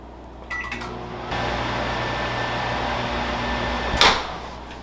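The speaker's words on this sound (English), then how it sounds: "I'm just going to put it into the microwave for a few seconds at a time with the trusty lid" A microwave oven melting chocolate in a lidded bowl: a door clunk, then a steady droning hum for a few seconds, ending in a sharp beep or door click.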